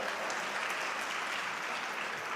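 Steady, dense applause from a large audience at a political speech before the Chief Minister, a continuous wash of clapping with no voices over it.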